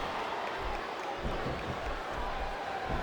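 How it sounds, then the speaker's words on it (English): A large arena crowd from the WWE SmackDown vs. Raw 2007 wrestling video game roars in a dense, continuous wash of cheering that stays steady throughout. "I think these superstars are getting some feedback from the crowd, JR."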